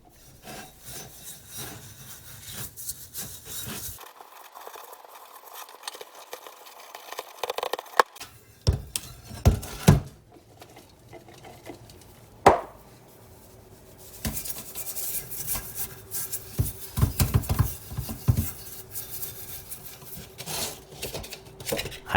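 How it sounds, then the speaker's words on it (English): A brush or scrubber rasps repeatedly against the bottom of a cast iron muffin pan, with bursts of close, gritty rubbing strokes broken by short pauses and a sharp knock. "wait until you try cleaning the bottom of a muffin pan"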